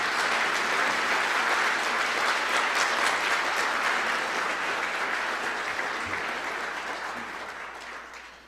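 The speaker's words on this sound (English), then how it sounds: "Let's please share our applause for all of the recipients." A banquet audience at the DWU 2023 Honors Banquet applauds award recipients with steady, dense clapping from the whole room. The applause stays full for most of the stretch, then thins and fades toward the end.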